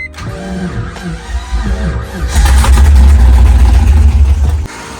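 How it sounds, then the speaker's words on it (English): An LS1 V8 swapped into a Mazda RX-7 FD, plagued by an electrical fault, cranks on its first start attempt: a few starter whirs and clicks, then the engine catches and runs loud and rumbling for a couple of seconds before cutting out. "This is the first try to start this car."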